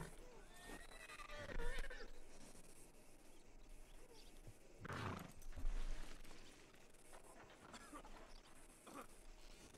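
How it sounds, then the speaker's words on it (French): Horses in a video game neigh and whinny in a few loud bursts over a low rumbling game background, with faint hoof sounds mixed in and a voice speaking between them. "Encore et toujours les chevaux."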